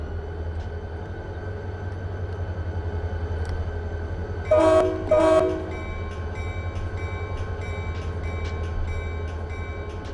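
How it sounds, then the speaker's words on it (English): A departing train in the Run8 train simulator game sounds two loud, short horn blasts in quick succession over a steady low rumble of idling locomotive and rail ambience. "And I got a train to depart in a second here."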